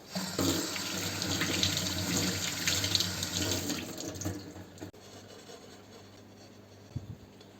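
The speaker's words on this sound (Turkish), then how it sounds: "Parçasını da yıkayalım." A part of an old burnt frying pan being washed under a running kitchen tap: steady close splashing water for about five seconds, then the flow stops. No one talks.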